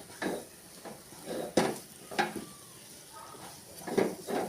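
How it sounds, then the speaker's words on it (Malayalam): A spoon scrapes and stirs through thick jackfruit seed halwa with nuts in a pan, giving a series of uneven scraping strokes at close range. "എടുത്ത് വെച്ചേക്കുന്ന നട്ട്സ് ഇടാം. നന്നായിട്ടൊന്ന് ഇളക്കിയെടുക്കാം."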